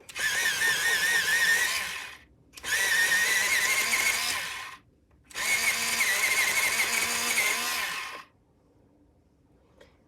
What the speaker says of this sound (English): I'm technically not supposed to use an electrical sharpener